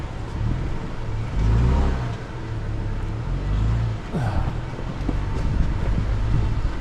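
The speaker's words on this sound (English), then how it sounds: "This truck really handles well for a full-size truck loaded down." A loaded full-size truck crawling off-road over rough terrain near Moab, its low engine rumble swelling and easing while wind buffets the microphone.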